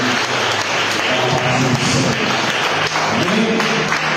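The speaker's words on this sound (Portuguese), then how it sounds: "aplauda o Senhor por essa palavra maravilhosa que recebemos" Worshippers at an evening Portuguese-language church celebration service applaud the Lord, sustained loud clapping from a full room mixed with voices, cheers and tonal music or singing underneath.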